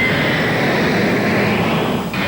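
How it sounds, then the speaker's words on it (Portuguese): A jet airplane roars loudly and steadily overhead as it flies low over homes near Congonhas airport in São Paulo, with no talk over the noise. "Quem vive perto do aeroporto de Congonhas precisa suportar o movimento intenso de aviões."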